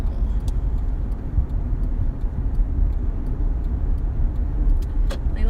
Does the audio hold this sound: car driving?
yes